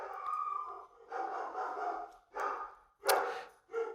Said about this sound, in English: That would be my dogs.